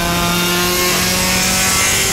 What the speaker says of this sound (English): the distinctive sound of the Nissan VQ35 engine